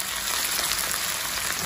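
Potato slices and shiitake mushrooms fry in oil swirled around a wok, giving a close, loud, continuous sizzle with no speech.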